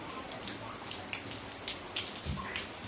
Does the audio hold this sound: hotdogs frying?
no